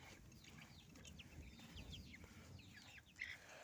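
Chickens cluck softly in a scattered, irregular rhythm as they are about to be fed grain, over a low, steady rumble of background noise.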